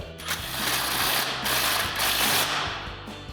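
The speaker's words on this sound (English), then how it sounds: "now to tighten our stabilizer bolt down, we've got our 8mm Allen socket set in place with our impact and a 19mm wrench for our nut" An impact wrench with an 8mm Allen socket tightening a stabilizer bolt on a RAM 2500 front suspension, giving a loud, continuous mechanical hammering rattle with a few brief pauses between bursts.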